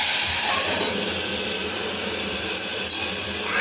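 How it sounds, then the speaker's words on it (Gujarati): Hot oil tempering mustard seeds, cumin, ajwain and hing hisses in a loud, steady sizzle that holds for the whole span, dense and close with no pauses. "છમકારો બોલી ગયો ભાઈ"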